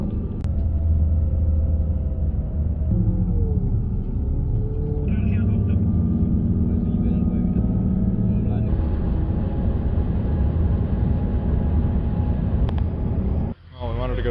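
Inside a moving bus travelling through northern Senegal, a constant deep rumble and engine drone fill the cabin, with shifting tones as it changes speed and a brief drop near the end.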